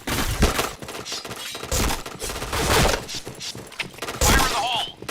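Gunfire in the shooting game Point Blank plays as repeated loud bursts of shots and cracks, mixed with impact thuds and game effects, with a voice speaking over part of the action.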